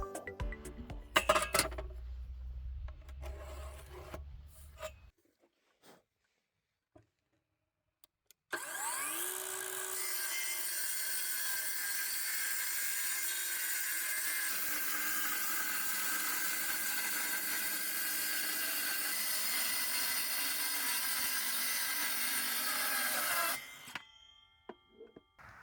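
A few clanks and handling noises, then a pause before a Parkside Performance 12 V cordless circular saw (PHKSAP 12) roars up and cuts wood steadily for about fifteen seconds, ending abruptly.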